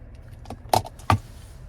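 Car key fob with remote start for a 2023 Chevrolet Traverse Premier handled up close, its keys giving two short, bright metallic jangles about a third of a second apart over quiet background hum.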